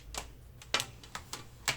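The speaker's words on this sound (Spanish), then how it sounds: "Acá yo tengo para probar un Moto Speed CK, que siempre ha sido mi teclado de base." Keys clack on a Motospeed CK mechanical keyboard with red switches, five or six sharp, separate strokes at an uneven pace, close by and quiet.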